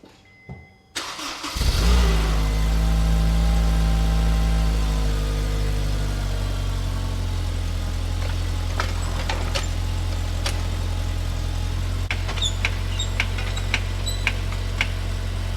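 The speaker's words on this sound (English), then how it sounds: "I'm going to do a quick start just to make sure there's no exhaust leaks and see how it sounds" A car engine with a stock exhaust cranks and catches, then settles into a steady, quiet, low rumbling idle that continues evenly, with faint clicks near the end.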